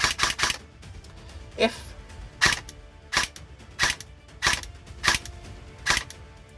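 An airsoft AEG with a blocked barrel fires in semi-auto: about eight separate sharp mechanical clacks spaced roughly evenly, close and clear, with someone speaking briefly between them.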